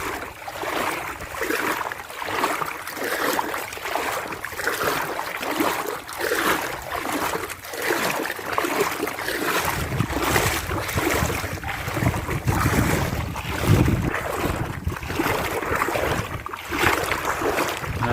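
Double-engine boats run on the water nearby, a steady motor drone mixed with wind buffeting and splashing that grows rougher and louder toward the end.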